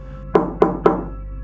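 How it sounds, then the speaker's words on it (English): Three soft, evenly spaced knocks on a wooden door, dull and muffled, with quiet in between. "I heard a soft knock, 3 times"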